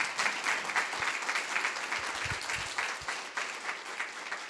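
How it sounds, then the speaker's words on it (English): Listeners at a community forum on wind energy applaud a panel: a dense, even wash of many hands clapping, heard from some distance and sustained throughout. "let's give this panel a round of applause"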